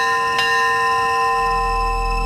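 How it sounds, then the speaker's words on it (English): Ship's bell aboard the Endeavour replica: a single struck ring near the start with a long sustained metallic tone ringing on, clear and fairly close, over faint low rumble. "And bells are sounded every half hour."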